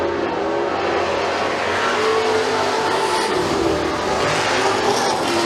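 Pure stock race cars roar around the McKean County Raceway oval in a loud, continuous engine drone that swells and fades as the pack passes.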